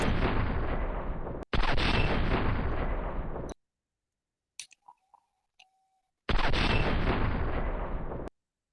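Barrett M107 rifle in the World of Guns game fires three sustained, loud booming shots of about two seconds each, with a sharp break between the first two, then a gap holding a few faint clicks of the mechanism.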